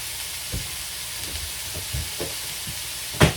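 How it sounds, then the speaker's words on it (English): Pineapple fried rice sizzles in a hot pan with a soft, steady hiss, broken by a few low knocks of stirring and one louder clatter near the end. "It's sizzling pretty good."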